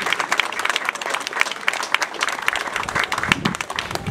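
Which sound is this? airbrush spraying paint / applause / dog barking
applause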